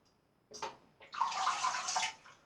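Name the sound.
water rinsing a vintage Gillette Toggle razor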